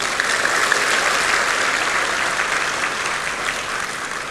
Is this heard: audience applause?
yes